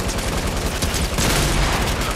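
Dense bursts of rapid gunfire fill a Fortnite match, loud and continuous from start to finish with no talking.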